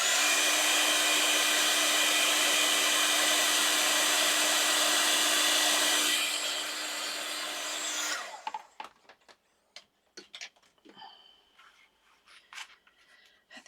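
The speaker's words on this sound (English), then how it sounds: "Okay, I'm going to heat set." Heat gun blowing on embossing powder, a steady loud whirring rush that runs for about eight seconds, then cuts off, leaving scattered small clicks and handling taps.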